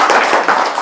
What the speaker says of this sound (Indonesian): Mungkin tepuk tangan dulu semuanya.